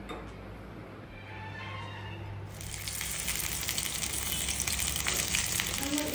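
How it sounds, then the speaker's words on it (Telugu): Sliced onions frying in a pan for biryani, a soft hiss at first that swells into a louder, steady sizzle with faint clicks. "ఇవన్నీ ఆనియన్స్ ఇలా వేపుకుంటూ ఉన్నాం కదా"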